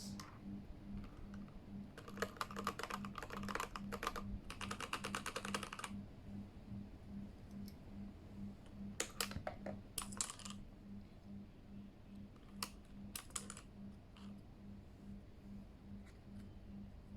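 Fingers type on a Keychron K8 keyboard in clustered bursts of rapid clicky keystrokes separated by pauses, fairly close, over a low steady background hum.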